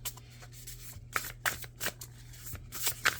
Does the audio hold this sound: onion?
no